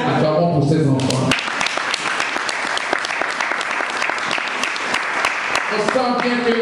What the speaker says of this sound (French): Acclamons pour ces enfants.